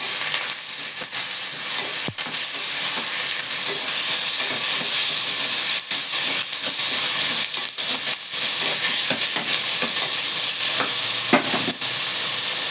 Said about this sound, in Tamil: கொஞ்சம் கருவேப்பிலை போட்டுக்கலாம். நல்லா வதக்கி விட்டுக்கலாம்.